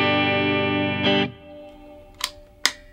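Played on the neck pickup with the coil split, a PRS S2 Custom 24 electric guitar rings out a sustained, effect-laden chord, then a short strum. Two sharp percussive picks follow in the near-silence.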